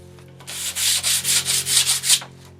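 Sanding with a homemade light-ply sanding bar faced with sticky-back 80 grit sandpaper, about eight rhythmic back-and-forth rasping strokes close up over a low steady hum.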